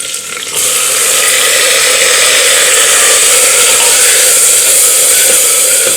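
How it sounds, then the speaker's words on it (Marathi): Tomatoes sautéing in a hot pan with asafoetida and turmeric, a loud, steady hiss of frying that rises after a brief quieter start and continues unbroken. "टोमॅटो आपल्याला एक मिनिटभर यामध्ये परतून घ्यायचा आहे"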